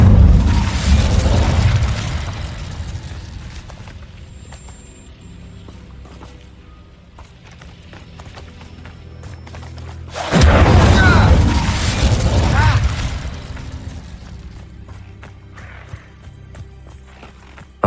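Booming bursts of the Incendio fire spell in Hogwarts Legacy on PS4 Pro, two loud whooshing blasts with crackling roar, separated by quieter ambient game sound.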